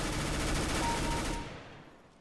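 Rapid gunfire rattles in Counter-Strike: Global Offensive, a loud, close, continuous burst of automatic shots that stops abruptly and leaves a fading echo.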